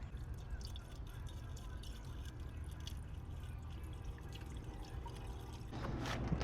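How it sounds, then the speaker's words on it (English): Distilled water is poured into a wrecked BMW M4 Competition, giving a steady low trickling gurgle, with a brighter splashing surge near the end. "So right here, gonna start filling it up with some distilled water."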